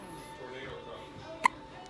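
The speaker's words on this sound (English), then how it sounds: "Oh, she got hiccups." A one-day-old to one-week-old newborn girl gives a single small hiccup, a brief sharp catch in the breath over quiet room tone with faint murmuring voices around it.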